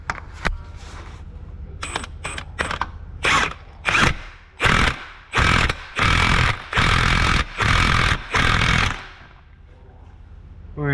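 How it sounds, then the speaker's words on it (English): Impact wrench driving a weighted impact socket onto a bolt during a Honda Odyssey timing belt job, with a string of short bursts followed by several longer loud hammering runs, close and clear. "with our weighted impact socket"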